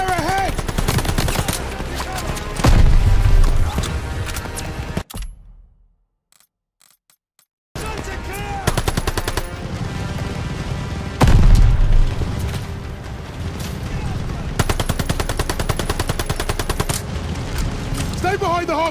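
Call of Duty Vanguard campaign battle with continuous loud machine-gun fire and booming explosions near a half-track, broken by one brief quiet gap before the shooting resumes; soldiers shout orders throughout.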